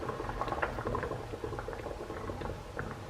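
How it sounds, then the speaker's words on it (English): A pot of water boils for melting sugar wax, giving a continuous close bubbling and popping patter at a moderate level. "I'm just going to put that in the boiling water"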